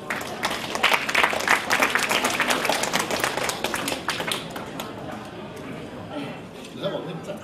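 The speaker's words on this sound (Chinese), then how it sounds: "有大家掌声有请丹丹小姐上来" An audience at an anniversary gala claps warmly to welcome a young woman onto the stage, with dense applause for the first few seconds that fades into sparse claps and a voice near the end.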